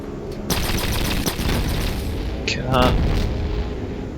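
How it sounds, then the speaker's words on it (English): Rocket explosions and weapon fire from the video game Fallout Tactics, a loud boom kicking in after half a second followed by sustained rumbling blasts, with someone talking over the action. "That rocket almost hit us."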